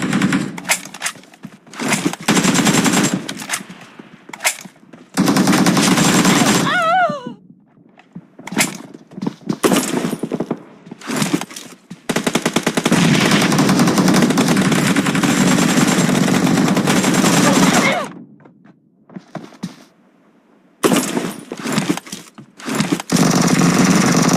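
Sustained machine gun fire in PUBG Mobile, long loud continuous bursts broken by short gaps and scattered single shots, dominating the scene without talk.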